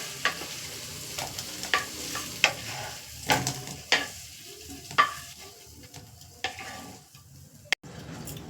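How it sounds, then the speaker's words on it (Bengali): Cauliflower and spices fry in a pan while a spoon scrapes and stirs, giving repeated sharp clinks and scrapes over a steady low sizzle. It is close and moderately loud, and nobody speaks. "ফুলকপিটা ভাজা হয়ে গেছে চলো এবারে এবারে মশলাটা কষে নিই"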